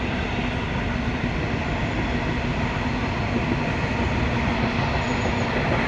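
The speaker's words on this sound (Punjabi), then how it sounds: "ਦੀ ਆਵਾਜ਼ ਆ ਰਹੀ ਆ ਪਿੱਛੋਂ ਟ੍ਰੇਨ ਦੀ ਆ ਰਹੀ ਆ" A train near a canal in London rumbles past at speed, a loud, steady, continuous roar of wheels on rails with faint clatter throughout and no voices.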